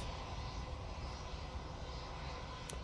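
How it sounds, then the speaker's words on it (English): A Ryanair airliner's jet engines roar in a steady, broadband rumble at Manchester Airport on a gusty day, distant but constant, with a brief faint tick near the end. "Ryanair's just landed"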